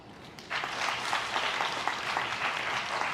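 An audience claps at a National Science Day celebration at VIT-AP University in India. The applause starts abruptly after a quiet half second and then holds as a steady, moderately loud patter from a large crowd with no talk.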